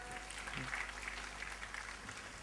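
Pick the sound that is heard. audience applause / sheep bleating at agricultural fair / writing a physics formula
audience applause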